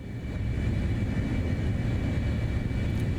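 An F-35 jet engine at 90% throttle in Microsoft Flight Simulator, flying near Mount Everest, makes a steady, loud, continuous roar with a thin high whine running through it.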